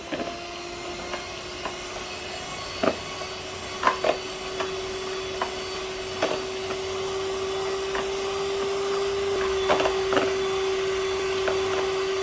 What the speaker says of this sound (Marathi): आता ही आपल्याला फेटून घ्यायची आहे